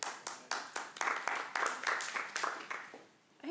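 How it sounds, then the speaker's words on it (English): A council meeting audience claps in a short round of applause, moderately loud and fairly even, fading slightly toward the end, with no talking. "Everybody's getting a clap this afternoon."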